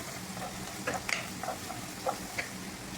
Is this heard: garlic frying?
yes